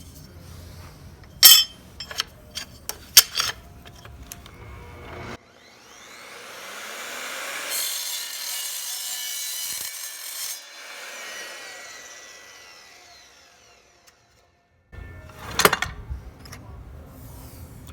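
An Evolution R255SMS 10-inch multi-material sliding miter saw cutting a small piece of aluminum: the blade whine swells and holds through the cut, then fades, framed by clunks and handling clatter.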